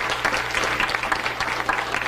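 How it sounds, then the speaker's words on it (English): Dense audience applause at a scholarship honor reception, steady clapping from many hands, loud and close, sustained throughout without a break. "how about a big hand for Mr."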